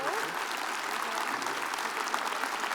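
Steady applause from a crowd at a Martin Luther King Jr. Day observance program, continuous and even throughout, with no breaks.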